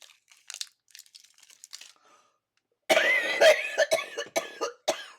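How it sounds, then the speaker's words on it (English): A few faint throat sounds, then a burst of harsh, repeated coughing fits, close and loud, in irregular spasms. "I think I'm finally over my coughing spell"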